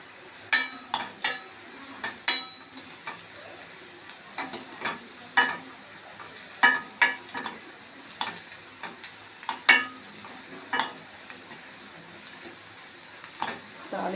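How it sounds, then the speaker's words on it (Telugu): Spices and asafoetida tempering in hot oil for tomato rasam: a soft, continuous sizzle punctuated by frequent sharp scrapes and taps of a spoon stirring in the pan. "తాలింపు అయితే రెడీ అయిపోయిందండి."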